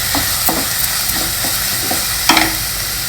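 Garlic cloves and onions frying in oil in a pan, a steady close sizzle with intermittent scraping stirs from a spatula, loud and continuous throughout.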